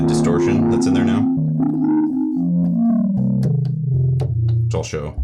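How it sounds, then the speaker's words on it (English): A Cobalt8 synthesizer patch played through its built-in distortion effect produces gritty, buzzing sustained tones that shift in pitch across a short phrase, with sharp bright attacks layered over a thick low drone, loud and close. "This is specifically using the distortion that's in there now,"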